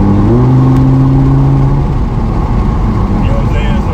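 An Audi R8 with its exhaust opened up revs loudly and close by, a rising engine roar that fades to a steady rumble, with people talking over it.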